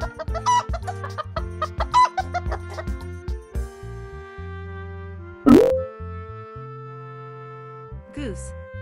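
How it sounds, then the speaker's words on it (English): Chicken clucking from an animal names and sounds lesson, short clucks in a bouncy rhythm over a cheerful musical backing, then a springy sound effect and a held musical tone. "Chicken."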